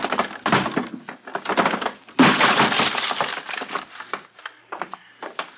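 A door is broken open in a radio drama, with repeated heavy splintering wooden crashes and cracking timber, loud and close, with one big burst midway and scattered debris clatter.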